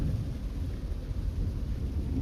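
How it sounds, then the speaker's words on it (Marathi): Heavy rain pouring down at a farmhouse with rolling thunder, a dense low rumble and steady roar filling the whole stretch, loud and close with no voices. "पाऊस बघा केवढा पडते"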